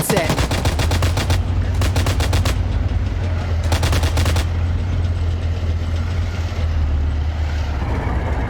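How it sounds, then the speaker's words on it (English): Close-range automatic gunfire bursts rattle out in a convoy match of a military video game, several loud rapid volleys over a steady engine drone. "So they're just point blank shooting it."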